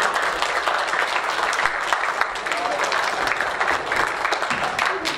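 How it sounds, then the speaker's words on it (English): Sustained applause from a school assembly crowd clapping for award winners, dense and even from start to finish, with no voice heard over it. "Big round of applause for these people"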